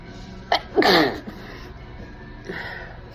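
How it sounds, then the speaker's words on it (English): One loud, close human sneeze with a sharp burst, followed by a quieter breathy exhale or second partial sneeze, no words spoken. "Alright, I might sneeze again."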